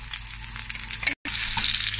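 Scallions hit hot oil in a wok for a steady, bright sizzle with crackly spatter, broken by a brief silent gap before the frying resumes at full strength.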